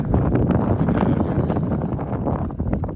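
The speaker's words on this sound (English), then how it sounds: "It's really windy." Strong wind buffets the microphone aboard a fishing boat on a lake, a loud continuous low rumble with gusty rustling that barely eases over a few seconds.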